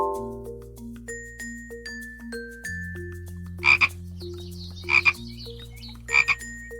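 Frog croaking from a pond: three loud, short bursts of croaks spaced about a second apart, standing out over a backing of steady tones and soft ticking music.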